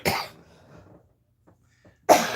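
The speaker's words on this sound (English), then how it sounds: "I'm coughing on you guys" One person gives a sharp cough, then quiet breathing and small noises follow before a second harsh cough at the end, both close and loud.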